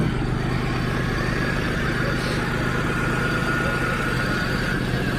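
A car engine idling steadily with a low, even rumble, close and constant, with no voices.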